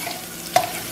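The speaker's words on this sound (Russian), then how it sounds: "Slightly cook, slightly fried garlic." Garlic frying lightly in a pan, a soft continuous sizzle close by with one short scrape or stir just past the midpoint, and no talking.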